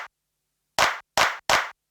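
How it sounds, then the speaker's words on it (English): A clap sound from a Sequential Pro-One synthesizer drum patch, heard as three sharp, bright synthetic claps in a quick uneven rhythm, close and dry, following a faint earlier hit. "Clap."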